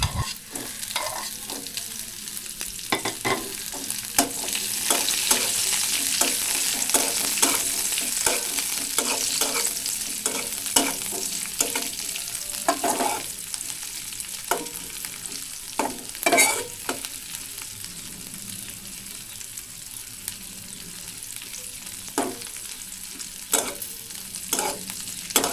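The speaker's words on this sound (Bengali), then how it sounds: "মরিচ কুচি দিয়ে কিছুক্ষণ ভেজে নিব" Chopped chili fries with browned onion and garlic in a pan, a continuous close sizzle broken by frequent sharp scrapes and clicks of stirring.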